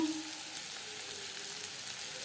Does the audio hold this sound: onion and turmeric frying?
yes